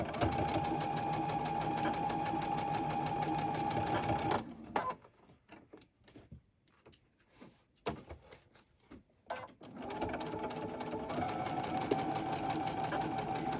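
Sewing machine stitching a pinned quilt, a steady close whirring run that stops for several seconds of quiet handling and rustling, then starts up again at the same even pace.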